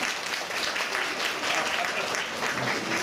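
Audience at the Turtle Talk show at Tokyo DisneySea bursts into steady, dense applause, a continuous wash of many hands clapping close by for the full length.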